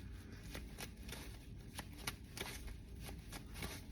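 Tarot deck shuffled by hand, a steady run of crisp, close card slaps and riffles repeating about twice a second over a low background rumble.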